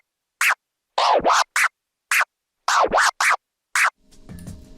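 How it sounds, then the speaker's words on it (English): Rolling baby stab scratch pattern on a DJ controller: a steady sequence of short, sharp forward-and-back scratch strokes in repeated groups, close and loud, ending with a brief bit of low musical backing. "performing a baby stab stab continuously in a rolling"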